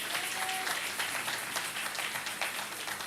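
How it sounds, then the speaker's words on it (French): A church congregation at a worship gathering claps and cheers in a steady, dense burst of applause that fills the room throughout. "Est-ce qu'on peut acclamer pour ça?"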